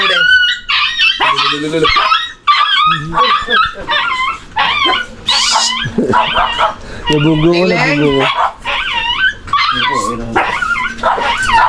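A dog yips, barks and whimpers in quick, excited bursts, close up, while people talk over it.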